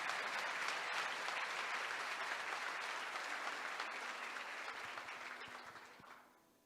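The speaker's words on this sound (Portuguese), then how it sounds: "Se você recebe, dê um aplauso forte," A church congregation applauds loudly during a sermon, a dense continuous wash of clapping from a large crowd that holds steady for several seconds before fading out at the end.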